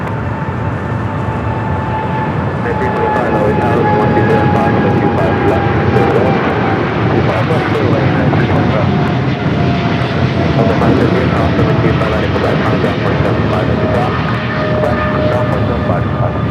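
A Boeing 777 freighter jet rolls for takeoff at LAX, a loud, sustained engine roar that swells slightly and holds steady with a whining tone throughout.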